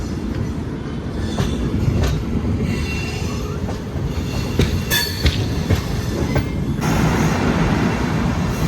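A fully air-conditioned Yeshwanthpur–Puri weekly express arriving at Guntur Junction: continuous heavy rail rumble with sharp wheel squeals and brief metallic clacks, close and loud, with no talking.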